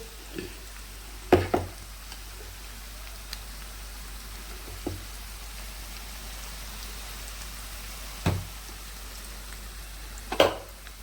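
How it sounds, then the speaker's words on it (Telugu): Onions, green chillies, curry leaves and garlic fry in a pan with a soft, even sizzle like light rain. A few occasional knocks of stirring sound quietly close by, with no talking. "ఉల్లిపాయలు, పచ్చిమిరకాయలు, కరివేపాకు, ఎల్లిపాయ ఇవన్నీ చక్కగా ఇంత మంచిగా వేగుతున్నాయండి"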